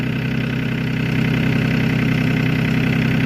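A farm tractor's engine idles nearby in cold weather, a low, steady mechanical rumble holding constant throughout.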